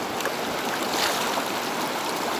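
A big, powerful river in Nepal near the Akhu hydropower site, rushing as a steady broad roar of water at close range, with no talking.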